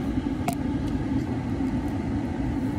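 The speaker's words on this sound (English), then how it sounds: "Yes, I'm in the car" Low engine rumble fills a car interior on a hot day, a steady, fairly quiet drone with a brief faint click early on and no talking.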